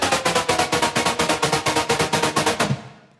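A pitched-down electronic sound in a music drop, run through OTT multiband compression, distortion and a low-cut filter, stutters in fast, even, loud pulses for under three seconds before trailing off into a brief fading tail, with no voices.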